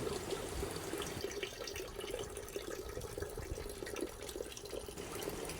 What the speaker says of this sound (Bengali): প্রথমে একটা বাটিতে সর্ষে নিয়ে ভালো করে ধুয়ে নিচ্ছি